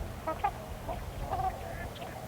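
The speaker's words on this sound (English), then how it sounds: "The ducks, of course, added what they could." Ducks calling on Eagle Lake in autumn, several short quacks and honks scattered across a couple of seconds, moderately distant over a low outdoor background.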